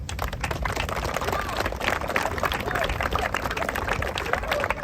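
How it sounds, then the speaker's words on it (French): A crowd applauding their parents at the inauguration of a new football ground for CSL Aulnay, with continuous dense clapping and crowd murmur held at a moderate distance throughout. "J'aimerais que vous applaudissiez vos parents."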